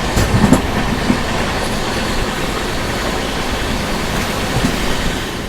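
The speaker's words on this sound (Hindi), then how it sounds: "बारह घंटे की देरी से चल रही सेंट्रल रेलवे की राजधानी एक्सप्रेस" A Rajdhani Express train rushes past at speed, a steady loud roar of wheels on rails with faint clatter throughout, no voices.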